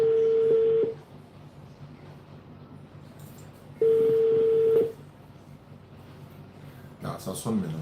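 A telephone call rings out as a steady tone about a second long, followed by a quiet gap and a second identical tone, then a voice begins talking at the end.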